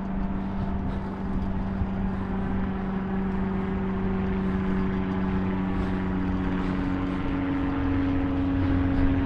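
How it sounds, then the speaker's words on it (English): An aircraft drones overhead above the Blackpool promenade, a steady low engine hum with sustained tones that swells slightly as it approaches, with no talking. "We've got aircraft up there."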